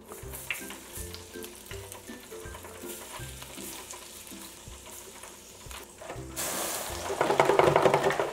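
Starch-coated orange beef pieces dropped into a fryer basket of oil at 375°F, a steady crackling sizzle that swells into a loud, bubbling roar toward the end.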